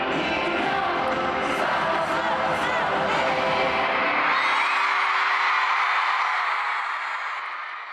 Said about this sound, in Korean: 팬들의 함성이 하늘을 찌를 듯한데요